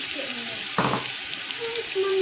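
Onions going into hot oil in a saucepan, giving a brief burst of crackling followed by a steady hiss of frying, close up and heard alone.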